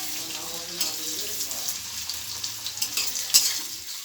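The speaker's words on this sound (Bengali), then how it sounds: "আমি পেঁয়াজ কুচনোটা দিয়ে দেবো। এবার পেঁয়াজটা আমি এবার লেড়ে নেবো।" Chopped onion being stirred in hot oil for chicken kosha, a soft sizzle under scraping spatula strokes that grow more frequent and sharper toward the end.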